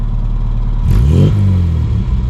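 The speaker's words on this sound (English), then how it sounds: "So let's hear a quick rev." A 1967 Austin Mini engine idles, then gives a single quick rev with a rising, rasping exhaust note that peaks and falls back to idle, close and loud.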